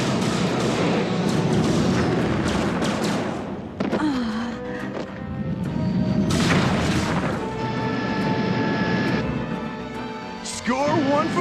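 Cartoon battle gunfire with dense, continuous booms and rapid blasts throughout, overlapping laser-like zaps and whines, loud and busy with occasional voices beneath.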